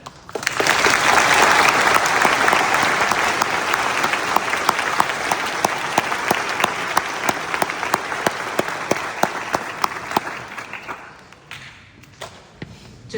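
Sustained applause from a high school graduation crowd, loud and dense for about ten seconds with scattered sharp claps, then dying away to a few lingering hand claps.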